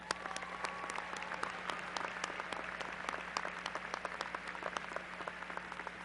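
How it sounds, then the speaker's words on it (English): A crowd applauds at a university commencement ceremony in 2008, dense overlapping claps heard from a distance over a faint steady hum, sustained evenly throughout. "Let's give them a round of applause."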